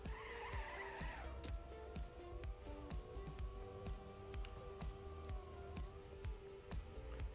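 Race car engine droning steadily in TrackMania during a Grand League Scandinavian qualifier, with a sustained tonal whine, brief tire skids and a faint voice at the start.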